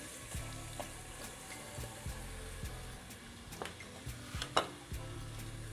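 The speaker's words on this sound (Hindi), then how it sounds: "तेल गर्म हो चुका है, अब मैं इसमें प्याज डाल रही हूँ।" Onion frying in hot oil inside a pressure cooker gives a soft, steady sizzle, with intermittent stirring clinks and scrapes of a spoon against the pot.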